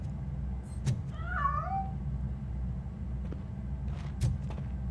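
A cat meows once in the video game RoboCop: Rogue City, a clear wavering call over a low ambient rumble, with a couple of soft knocks before and after.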